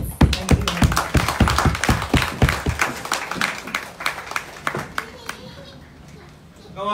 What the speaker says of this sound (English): Give her another round of applause there.